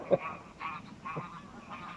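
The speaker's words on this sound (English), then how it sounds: "geese, fighting again, always fighting" Geese honk in a short squabble, a sharp loud honk near the start followed by a few rougher honking bursts over a low outdoor background.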